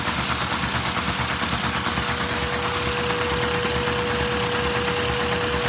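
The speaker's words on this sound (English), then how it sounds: "That thing's chugging away." A Lego inline-4 vacuum engine paired with a 10-speed transmission chugs steadily in top gear, a constant close mechanical drone with a faint tonal whine running throughout, no talk.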